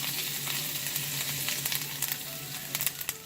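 Garlic, onion and green chilli sizzle steadily in hot oil, a dense close crackle with occasional sharper pops and spatters, no voices.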